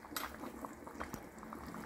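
Water coming to a boil in a pot for Central Asian lamb plov gives a faint, steady bubbling simmer with a few soft clinks of cookware, close by and quiet, with no talking.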